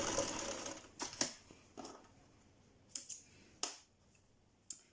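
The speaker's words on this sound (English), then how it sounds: "I'm going to be stitching it down. And open the pocket bag as you sew." A sewing machine stitches a trouser pocket bag in several short, quiet bursts, each a brief mechanical whir separated by pauses, with a few sharp clicks between runs.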